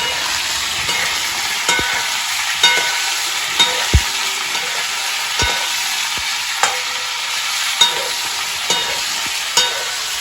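Eggplant (brinjal) slices frying in a pan make a loud, close sizzle, broken by repeated sharp scraping clacks from stirring at irregular intervals, with no voices.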